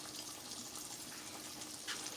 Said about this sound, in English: we're going to pour off a lot of that grease